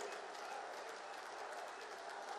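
A large crowd at an outdoor political rally in Ghazipur, Uttar Pradesh, claps continuously, a dense, faint-sounding roar of applause heard from a distance without pause.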